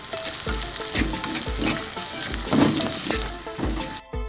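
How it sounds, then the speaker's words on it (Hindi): Chopped tomatoes frying in a Lahori desi-style chicken karahi, a loud, steady sizzle broken by regular stirring scrapes about every half second, close up with no talk. "अब इसमें टमाटर ऐड करेंगे और इसको 2 मिनट तक भूनेंगे।"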